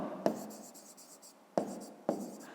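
A pen writes on paper during a fifth-grade maths exercise. Soft scratching strokes are broken by three sharp taps as the pen touches down. The sound is close and quiet, and no one speaks.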